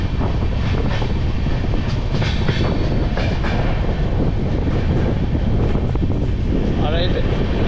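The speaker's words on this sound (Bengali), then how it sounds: "ওয়ারিয়া থেকে ছেড়ে দিল আমাদের ট্রেন।" The 22387 Black Diamond Express, a new LHB train, running after departing a station, a loud continuous rail rumble with wind buffeting the microphone throughout.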